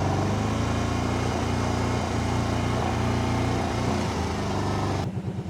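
A Kawasaki Brute Force 750 ATV engine with an oil leak idles in a steady, close, continuous rumble that carries on evenly and then cuts off abruptly near the end.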